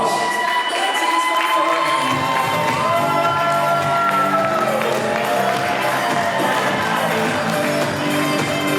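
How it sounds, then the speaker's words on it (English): Wedding reception crowd cheering, whooping and shouting for a groomsman named Brad, a loud continuous mix of voices and scattered clapping that swells after the first two seconds and carries on to the end. "Let's give him a nice big round of applause."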